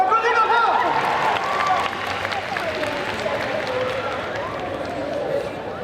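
An audience at a cosplay contest at the Made in Asia 2023 convention applauds a jury member, a steady wash of clapping and crowd noise running the whole time with a voice talking over it.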